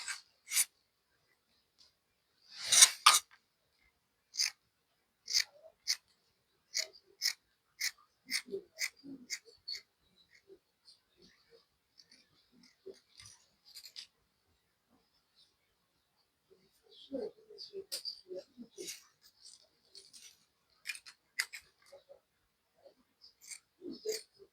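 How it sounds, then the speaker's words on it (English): Scissors cut through fabric along a chalk line for a hijab cap, giving a series of quiet, crisp snipping clicks in irregular runs separated by near-silent gaps. "Then you cut on the chalk line."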